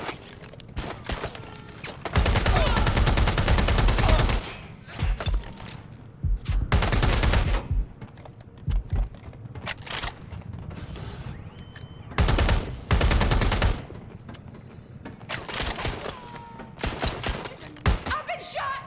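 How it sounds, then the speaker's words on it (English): Bursts of automatic gunfire in the video game Watch Dogs Legion, several loud sustained volleys separated by quieter gaps with scattered single shots and brief game voices between. "I've been shot!"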